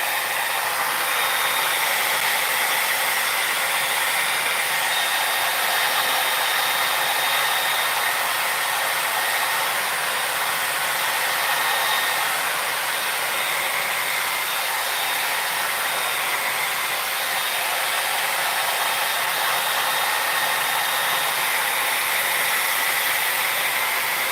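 A handheld hair dryer runs steadily and loudly on hair being styled for volume, a continuous broadband whoosh with a faint motor whine, close by and unbroken for the whole stretch, with no talking.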